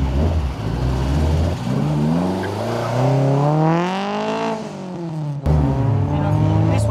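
A Ford Escort MK1 race car with about 220 horsepower at the wheels and a Type 9 five-speed gearbox revs hard, its engine note climbing and falling through gear changes, loud and close, with someone talking over it.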